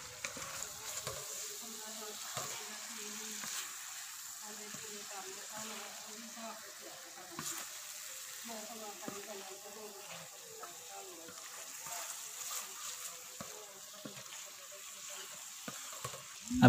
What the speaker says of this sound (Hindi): मैं मीडियम फ्लेम पर ही अच्छी तरह पकने दूंगा ताकि जो चिकन के पीस हैं अंदर तक अच्छी तरह गल जाएं।